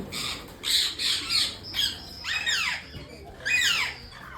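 Harsh parrot squawks come in several bursts at Indroda Nature Park in Gandhinagar, fairly close and loud, separated by short pauses with quiet background.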